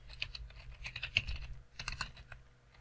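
Quick bursts of typing on a computer keyboard, soft clicking keystrokes in uneven clusters with a brief pause midway, close and fairly quiet, with no speech.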